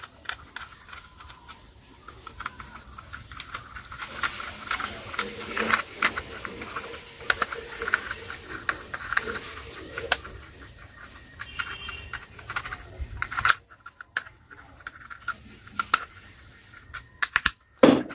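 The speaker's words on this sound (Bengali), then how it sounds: "আমরা কিন্তু এই স্ক্রুগুলাকে এখন একটা একটা করে টাইট করে দিচ্ছি" Screws are tightened one at a time on a small toy vehicle, producing a steady run of light plastic clicks and ticks that is close and fairly quiet, ending in a few sharper knocks.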